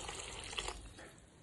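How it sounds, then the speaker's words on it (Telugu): A little water poured into a simmering mushroom curry gravy in a pan, a soft steady trickling pour heard close with no talking. "కొంచెం వాటర్ పోసుకుందాం"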